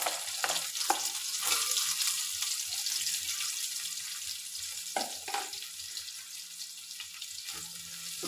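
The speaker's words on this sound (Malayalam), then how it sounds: "അത് നമുക്കിതിലേക്ക് ഇട്ടൊന്ന് വഴറ്റിയെടുക്കാം" Chopped carrots and beans sautéing in hot vegetable oil for wheat-flour noodles, a steady close sizzle with intermittent scraping stir strokes and clinks against the pan.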